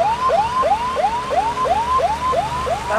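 An ambulance siren wails in a fast, rising repeated whoop, about nine cycles, loud and fairly close, at a Maharashtra Day parade in Nagpur with no one speaking over it.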